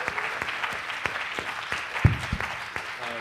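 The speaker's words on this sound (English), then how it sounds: "Let's give a big round of applause for Dr. M. Ramana." An audience applauds at the close of a talk on wildlife and photography. The clapping is steady and moderately loud, with a few sharper claps standing out nearby and faint voices underneath.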